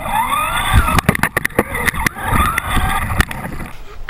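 Traxxas Slash RC car driving through water-balloon splashes, a buzzing electric motor whining and revving with sharp bursts and clatters, fairly close, with a faint voice in the background.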